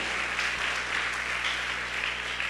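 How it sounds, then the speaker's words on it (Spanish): A church congregation claps loudly and continuously during a sermon, a dense, even wash of applause with no clear voices. "Dele una ofrenda de palmas, pero désela fuerte al Rey de Reyes"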